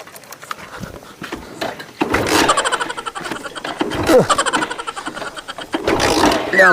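A motorbike's starter is cranked repeatedly in bursts, the engine catching only briefly and stuttering without settling into an idle, with pauses between attempts.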